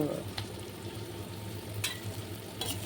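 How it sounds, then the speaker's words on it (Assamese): Onion, salt and spices (cumin, coriander, black pepper) sizzle steadily in a pan, a close, even crackle with a few sharper bursts of spattering. "ভাজি আছোঁ"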